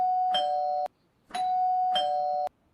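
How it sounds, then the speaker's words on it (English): A household doorbell rings twice in a row, each a clear electronic ding-dong chime that holds, then cuts off sharply, with a short pause between the two presses. "Michael, let go of the doorbell, Michael."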